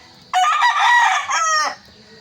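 A seven-year-old Robles bloodline gamecock crows once, close and loud, a single long cock-a-doodle-doo rising and then breaking off.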